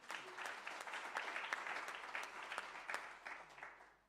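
Audience applause fills a G20 Africa investment summit hall, a steady wash of many hands clapping at moderate distance for several seconds, fairly quiet overall.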